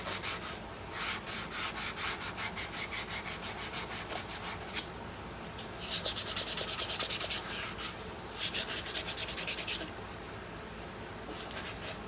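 Steady rhythmic sanding strokes rubbing across a wooden bandsaw box, a fast back-and-forth rasp with a couple of louder, longer passes partway through; close and continuous.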